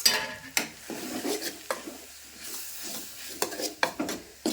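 Dry coconut powder is stirred into curry in a pan, with a spoon scraping and clinking against the metal in irregular strokes and a faint sizzle beneath.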